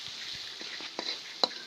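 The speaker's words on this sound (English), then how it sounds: "And now I am frying onion slice" Onion, green chili and garlic slices fry in a pan while cooking fish for lunch, a steady soft sizzle with a few light clicks and stirring taps, close by.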